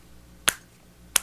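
A small metronome ticks at a slow tempo, two sharp, clean clicks spaced well apart against a quiet background.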